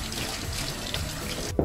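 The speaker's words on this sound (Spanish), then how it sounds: "Lavamos las zanahorias, como siempre, con un cepillo bajo el grifo." Water from a running kitchen tap splashes steadily as carrots are scrubbed with a brush beneath it while cooking a macrobiotic tempeh and vegetable dish; a close, continuous rush with a brief clatter near the end.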